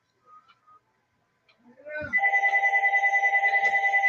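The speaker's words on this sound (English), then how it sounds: "Phone's ringing" Soft footsteps and small knocks come first, then a close telephone bell starts ringing in a rapid, steady pulsing trill that keeps going to the end.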